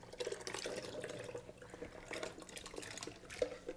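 Boiling water left from cooking squash is poured into a blender, a faint splashing, gurgling stream lasting a few seconds with a small splash near the end.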